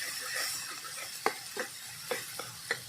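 Chopped tomato with cumin fries in a little oil, a low background sizzle overlaid by several distinct spatula taps and scrapes against the pan at irregular intervals.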